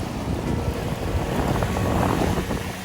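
Strong onshore wind sweeps across a sea coast before a storm, a loud, constant rushing roar buffeting the microphone with waves mixed in, steady and close throughout with no voices.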